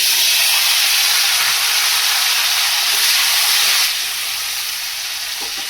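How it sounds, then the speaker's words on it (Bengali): Potatoes dropped into hot oil left over from frying fish give a loud, steady sizzling hiss that fills the whole stretch, easing slightly toward the end. "ওই মাছ ভাজা তেলের মধ্যেই আমি আলুগুলো দিয়ে দেবো।"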